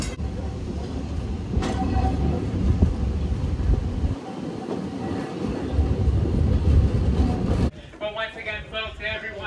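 A Walt Disney World park train rumbles along the rails with low clattering and rolling noise, a voice speaking over it, then the rumble drops and a brighter announcement-like sound follows at Fantasyland Station.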